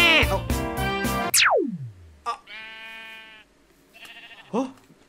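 Sheep bleating in Minecraft, a few loud, wavering bleats with pauses between them, alongside a descending game sound effect and someone talking.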